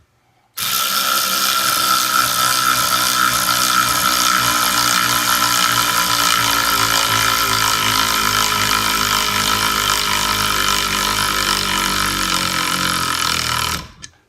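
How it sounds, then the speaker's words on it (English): Kimo 12-volt cordless ratchet drives a lag bolt into wood, its motor whirring steadily and loudly for about thirteen seconds before cutting off abruptly, with no talk over it. "drill that lag bolt right into the wood without pre-drilling, and we're going to push it in all the way with the Kimo ratchet"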